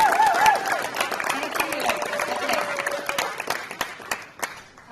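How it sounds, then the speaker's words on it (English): Audience applause for the volleyball program at a high school signing day, a crowd clapping and cheering in a gym, with a voice over it at first and the clapping thinning out toward the end. "I'd like to give a round of applause to our volleyball program"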